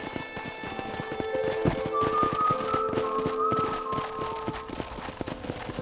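Steady clip-clop of horse hooves trotting at an even rhythm, close by, in the video game Red Dead Redemption, with faint background sounds and no talking.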